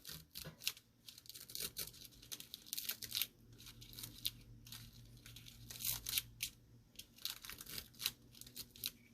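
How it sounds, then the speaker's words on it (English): Paper is trimmed while making a shaker-style greeting card, giving quiet, intermittent crinkling and cutting rustles close by, with soft handling noises between them. "I'm gonna go ahead and trim that off"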